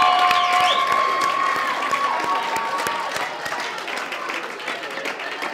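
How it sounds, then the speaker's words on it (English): Applause and cheering from the audience at a student union awards ceremony, a dense, steady wash of clapping with scattered shouts and a few whistles, loudest at the start and gradually fading. "So can we have a big round of applause for them?"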